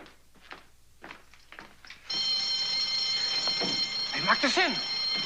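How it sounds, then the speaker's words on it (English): A burglar alarm bell starts ringing abruptly partway through, a loud continuous metallic ring that follows a few knocks and thuds; a voice speaks over the ringing. "That bell ought to bring somebody. That bell will bring everybody. That's a burglar alarm."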